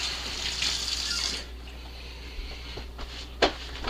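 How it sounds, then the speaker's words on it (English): A tap runs water over an arm at a sink, giving a steady close splashing hiss for about a second and a half that then stops, followed by a few faint clatters and a short bump. "Rinse that on my arm."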